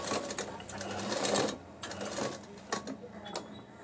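A sewing machine stitches piping onto a fabric potli button in short close bursts of rapid clattering, separated by brief pauses as the work is guided.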